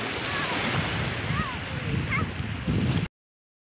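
Sea waves wash steadily onto the shore of a beach lined with cottages on Mantalinga Island in Roxas City, Capiz, with a continuous roar, strong wind buffeting the microphone, and faint voices and bird-like chirps in the background.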